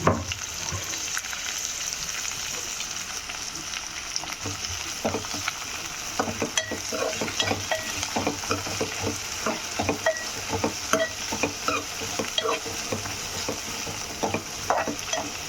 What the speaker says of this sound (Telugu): అది కూడా ఆయిల్లో వేగి మంచి ఫ్లేవర్ వస్తుంది.